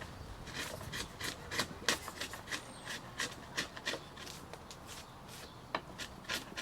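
A chisel is driven with a double-handed stabbing motion to cut a housing dado in a wooden workbench apron, making a close series of short rasping, scraping strokes in an even rhythm.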